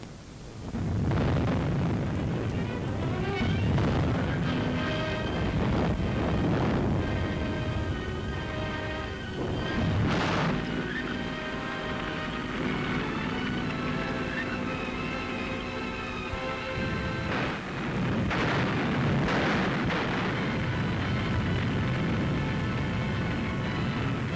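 Captured German artillery fires in Battle of the Bulge wartime footage, with heavy booming blasts and rumbling explosions rolling on continuously and loudly, one shot landing right after another through the whole stretch.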